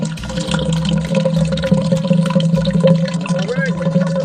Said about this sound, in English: pour the gasoline in there with the noodles